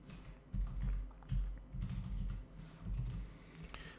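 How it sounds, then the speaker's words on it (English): Keys clatter in quick, irregular bursts as someone types on a computer keyboard, close and fairly quiet, with no talk. "let's type the condition"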